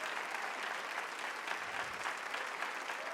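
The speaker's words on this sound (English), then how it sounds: "So I'd like to give us a huge round of applause." Sustained audience applause at a school spring instrumental band concert, an even wash of many hands clapping for a few seconds, fairly distant and moderate in level.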